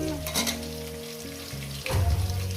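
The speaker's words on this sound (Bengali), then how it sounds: "পেঁয়াজগুলোকে আমি দিয়ে আরও আমি তিন মিনিট কি চার মিনিট এটাকে ভেজে নেবো" Sliced onions added to potatoes already frying in oil in a pan, for a Bengali katla posto dish, sizzling steadily and close up, with a louder burst of crackling as they hit the hot oil.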